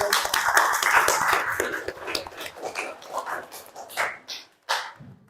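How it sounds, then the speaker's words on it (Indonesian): A school class clapping hands in a classroom, a burst of rhythmic, fairly close claps that thin into scattered, separate claps before stopping. "Oke, beri tepuk tangan untuk kalian."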